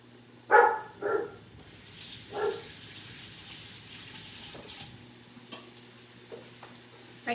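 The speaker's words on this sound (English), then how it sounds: "you can start to hear that sizzle in there" Raw shrimp sizzle in a hot pan for healthy shrimp tacos, a steady bright hiss swelling over a few seconds after some brief knocks and clatter, then fading to a low background with scattered small clicks.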